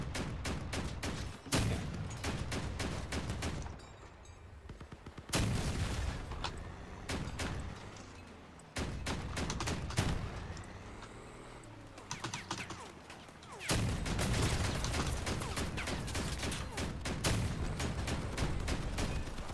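A vehicle cannon firing during a Crossout match, with bursts of sharp, loud repeated shots and clattering mechanical noise, broken by short pauses between volleys.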